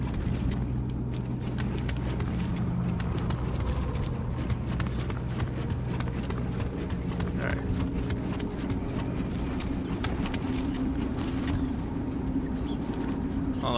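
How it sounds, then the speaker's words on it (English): Rapid, steady footsteps in the action game Nioh, a continuous stream of clattering steps under a dense, constant game ambience with no talking. "I just heard like a footsteps."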